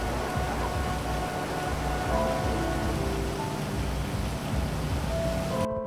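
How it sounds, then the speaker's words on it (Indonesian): Steady rain pours down without a break, a dense hiss of drops drumming on surfaces, with low rumbling underneath and no voices. "Malam harinya langit turun hujan."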